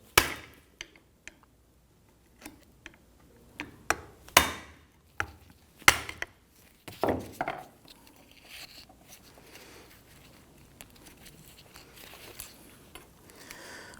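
Sharp metallic taps and pries from a screwdriver or chisel working a one-time-use band clamp off a CV joint boot on a 2006-2010 Hummer H3 front drive shaft, a series of irregular close knocks followed by softer scraping.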